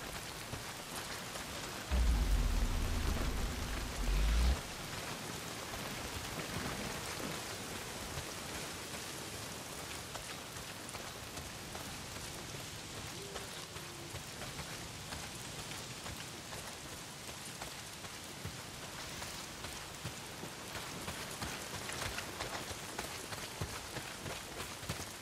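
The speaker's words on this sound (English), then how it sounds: "Well, not if it's pissing down rain." Heavy rain pouring steadily in the video game Days Gone, a dense continuous hiss throughout with a deep low rumble early on.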